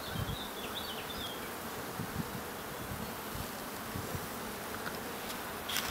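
Honey bees buzz at an open hive frame in a dense, continuous hum close by, with occasional louder individual bees passing near and no talk.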